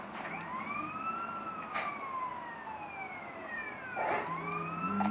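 Wailing emergency sirens from police cars chasing an ambulance in the game GTA San Andreas, several rising and falling tones overlapping at steady loudness with brief bursts of engine and crash noise.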